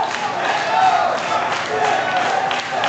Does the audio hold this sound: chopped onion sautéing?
no